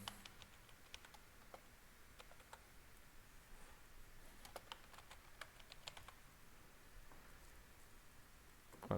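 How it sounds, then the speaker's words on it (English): Steady, quiet clicking of a computer keyboard as a file name is typed, with rapid, even keystrokes continuing throughout at low volume. "I'm going to type in the name."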